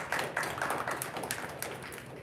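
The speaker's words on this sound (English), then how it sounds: "round of applause for that group" A room of people at an academic breakfast applauds a group of students, a dense patter of many hands clapping steadily at moderate volume for a couple of seconds.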